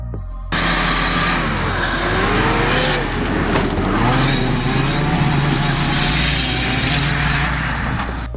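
Modified diesel Nissan Navara pickup making 370 horsepower on 32-inch tyres, with nitrous and an upgraded common rail pump; a loud, close, sustained engine roar that rises and falls in pitch over several seconds, with no speech.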